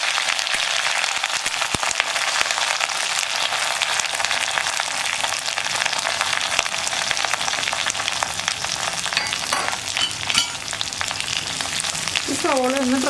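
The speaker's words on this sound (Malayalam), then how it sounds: "ഈ സവോള ഒന്ന് ട്രാൻസ്പെറൻ്റായി വരുന്നത് വരെ ഒന്ന് ഇളക്കി കൊടുക്കുക." A small onion fries with dried red chillies and curry leaves in a pan for drumstick thoran, giving a dense, loud continuous sizzle with stirring clatter throughout.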